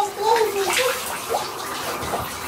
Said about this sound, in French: C'est la douche.